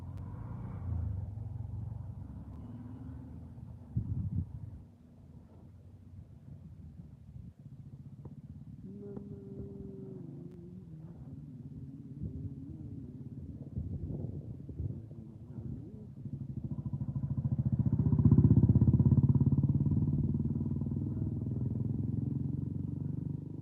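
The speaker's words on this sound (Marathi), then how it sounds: "मामाचं बघ कित्येक गाड्या येतात भयानक गाड्या" Cars and motorcycles roll past in a steady stream, a low, fairly faint rumble of traffic that grows louder for a stretch near the end before easing off.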